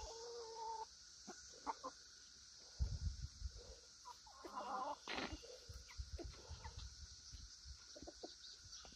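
Chickens clucking in a backyard flock, with faint scattered clucks and soft calls spread across a quiet outdoor background, some brief closer rustles and thumps, and no voices heard.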